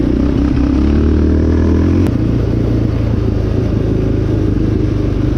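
A Yamaha Raptor 700R sport quad engine drones loud and steady while riding from low desert toward the mountains, with one sharp click partway through and no voices.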